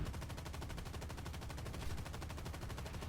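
Dense, rapid bursts of War Thunder gunfire from an AMX M4 tank cannon fill the whole stretch, loud and continuous, with heavy low-end booms repeating in quick succession.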